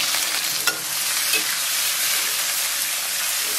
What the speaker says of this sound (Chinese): 咱把肉末下到锅中